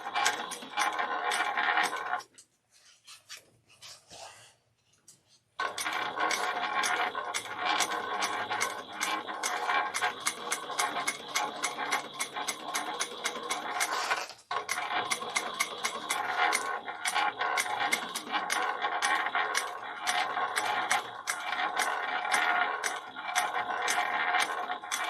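Sewing machine back stitching across the straps of a Kandu bag: a rapid, steady run of close mechanical ticking that stops for a few seconds near the start, dips briefly midway, then runs on evenly to the end.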